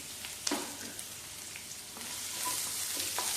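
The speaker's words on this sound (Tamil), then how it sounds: "வெங்காயம் கொஞ்சம் நல்லா வதங்கிக்கணும்." Onion sautéing in a pan for bottle gourd gravy, a steady close sizzle with scattered crackles and a few light scrapes of stirring throughout, no talking.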